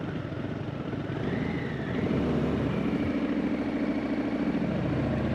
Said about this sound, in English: I've got the Vance & Hines big radius chrome exhaust installed. So, love the way it sounds